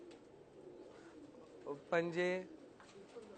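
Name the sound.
cooing of dub pigeons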